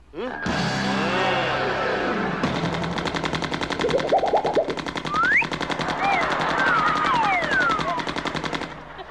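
Sustained rapid machine-gun fire in a Thai TV drama, loud and continuous bursts running for several seconds with whistling and zipping effects layered over the rattle.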